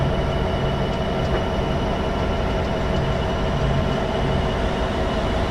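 A locomotive in the Train Sim 2015 game runs steadily, with a loud continuous rumble and rail noise throughout and no speech.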